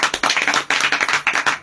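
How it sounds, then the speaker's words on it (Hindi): Audience in a Bible study gathering clapping in steady rhythmic bursts, loud and close, with brief pauses between rounds of claps. "आप लोग का ताली भी दूसरे सुनते हैं"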